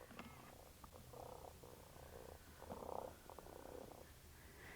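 Interactive robotic toy cat purring, a soft continuous low rumble with gentle swells, faint and steady throughout with no talk over it.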